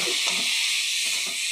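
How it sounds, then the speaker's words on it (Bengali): Turmeric and chilli powder fry in a hot pan with a loud, steady high sizzle and a few soft stirring scrapes underneath, close and with no talk. "ভালো মতন এটাকে ভেজে নিতে হবে।"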